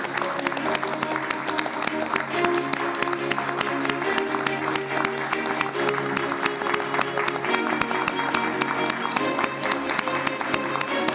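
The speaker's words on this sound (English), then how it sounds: "Big round of applause" A big round of applause greets honourees taking the stage at a Tessa Jowell Centres of Excellence awards ceremony, steady crowd clapping running the whole length with music or voices faintly beneath.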